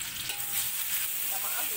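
Dried chilies sizzle steadily as they fry in a pan, a continuous bright crackle filling the short stretch with no pauses.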